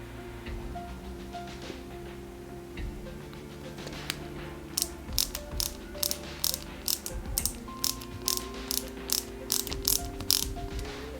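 A small screwdriver tightens a screw into the 1/8-scale Ford Gran Torino model, from the Starsky and Hutch partwork, giving a steady run of close, crisp ratcheting ticks over a low background hum.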